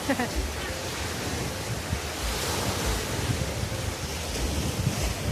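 Ocean surf at high tide on a morning beach near a resort, a continuous broad wash of breaking waves with wind buffeting the microphone and a faint voice in the background.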